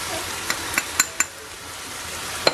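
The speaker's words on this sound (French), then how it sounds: "Et on va continuer à mélanger." A spoon stirs kefta tajine with ground meat, ginger and cinnamon in a sizzling pan, giving several sharp clinks against the metal over a steady, soft frying hiss.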